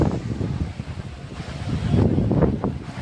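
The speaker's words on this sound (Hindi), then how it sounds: "बहुत तगड़ी हवा चल रही है, बहुत तगड़ी" Strong, gusty dust-storm wind buffets the microphone with a steady, loud roar that swells and surges throughout, with no voices.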